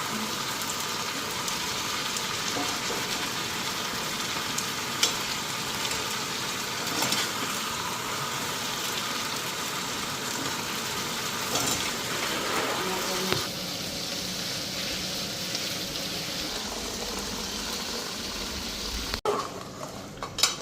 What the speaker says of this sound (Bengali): তো এটা একদম আস্তে আস্তে এখন লাড়তেছি